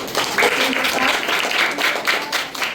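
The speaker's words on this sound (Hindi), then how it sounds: "ताली चाहिए इसके लिए।" Children in a primary maths classroom clap together, a close, loud burst of applause with uneven surges that lasts the whole moment, with no talking over it.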